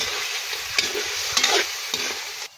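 Live crayfish stirred in a hot pan, several scraping, clattering strokes over a continuous sizzle, close and fairly quiet, with no speech.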